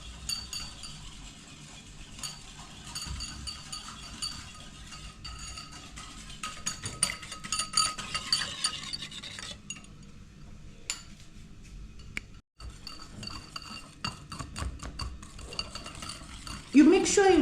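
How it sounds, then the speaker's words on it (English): Carrot and pineapple cake batter is stirred in a bowl, a steady faint scraping and clinking of utensil against the bowl that continues for many seconds, with a brief pause and a louder knock near the end. "You stir until you don't have lumps."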